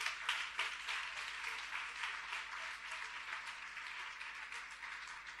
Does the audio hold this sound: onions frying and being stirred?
no